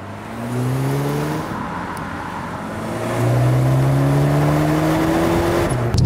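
BMW X2 M35i engine on a winding road near Cascais in Go-Kart driving mode, a steady close engine drone rising through the revs, easing, then climbing again louder, with no talk.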